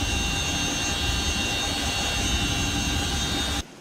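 Steady, loud roar of twin-rotor Chinook helicopters in flight, a continuous broadband drone that holds without a break before cutting off abruptly near the end.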